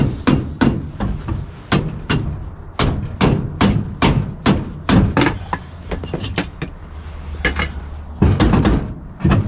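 Repeated loud metallic hammer strikes on parts of a 1959 Chevy Napco 4x4 truck during cab removal, irregular but steady, ringing out close by with a low engine-like hum underneath and no talking.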